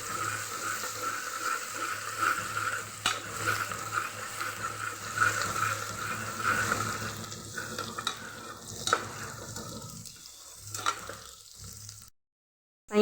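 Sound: onion and garlic frying in cooker

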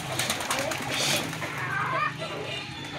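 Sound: Someone's pigeons

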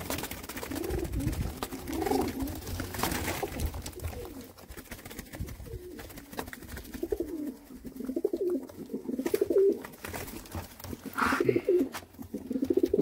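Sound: pigeons cooing

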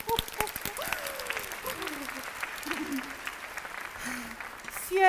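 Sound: applause

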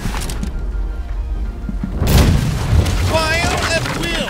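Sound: ship cannons firing from video game Blackwake

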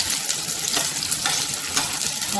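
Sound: onion and green chili frying in oil

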